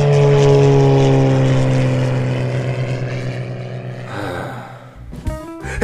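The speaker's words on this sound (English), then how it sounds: "Mario, see the airplane" A loud droning propeller engine with steady low harmonics that slowly shift in pitch as it passes, fading toward the end.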